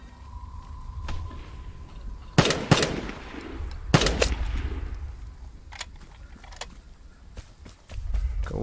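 Gunfire rings out in the online shooter Vigor, including an M1 Carbine, with a few sharp, echoing shots clustered in the middle, fainter distant pops and footsteps before and after.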